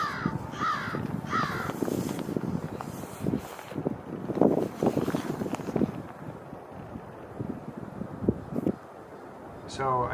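A crow caws in short repeated bursts near an eagle at Onondaga Lake during a blizzard, with wind buffeting the microphone and someone talking over much of it.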